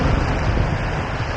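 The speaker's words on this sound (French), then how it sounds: "Oh là là, c'est le vent." Strong wind on Sado Island, Japan, buffets the microphone with a continuous low roar and rumble, briefly and close up.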